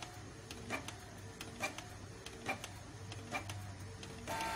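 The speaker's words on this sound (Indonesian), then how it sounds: "kita nozzle check lagi lewat menu bawaan driver printer" An inkjet printer runs a nozzle check print after repeated head cleaning, giving a steady mechanical hum with rhythmic ticking and clicking of the print head carriage, heard close and alone.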